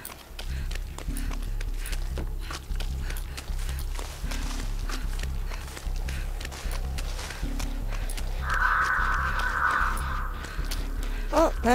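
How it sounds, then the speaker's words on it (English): Crows caw in the horror game Dead by Daylight, a burst of harsh calls rising late over a steady backdrop of footsteps and ambient game noise, fairly close and moderately loud. "Based on the crows."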